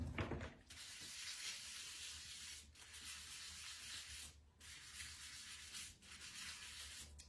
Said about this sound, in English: scrubbing the stones, fairly self-explanatory